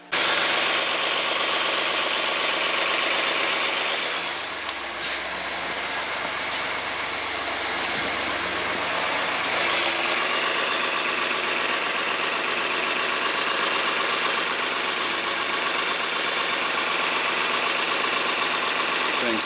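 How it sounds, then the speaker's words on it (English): A 2017 Ford Expedition engine with low power and low boost runs steadily at idle, a loud, constant rumble with hissing noise throughout and a brief dip partway. "start the engine and watch"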